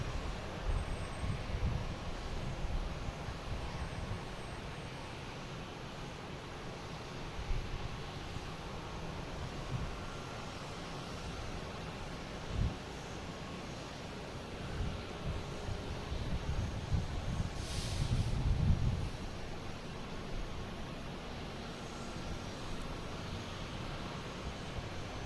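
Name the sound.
Wheels Up aircraft arriving at Boston Logan airport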